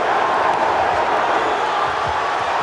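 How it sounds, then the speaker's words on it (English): A boxing arena crowd roars in a dense, steady wall of cheering during a Prince Naseem Hamed bout against Kevin Kelly, loud and unbroken throughout with no distinct voices standing out. "The crowd is going delirious"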